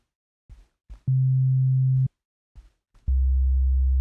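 Two pure, steady low sine-wave synth tones without frequency modulation sound one after another, each held about a second, the second deeper, with soft clicks between them.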